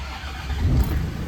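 A 1999 Land Rover Td5 diesel engine cranks briefly after glow plug warm-up and catches, settling into a low steady rumble.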